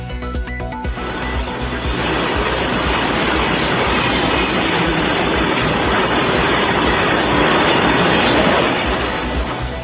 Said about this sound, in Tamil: ஜம்மு காஷ்மீரின் கந்துவாவில் ஓட்டுநர் இல்லாமல் ஓடிய சரக்கு ரயில்.